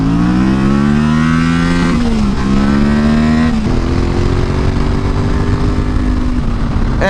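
A dual-sport motorcycle accelerates hard through the gears, its engine pitch climbing, dropping at each shift and climbing again, loud and close throughout with no talk.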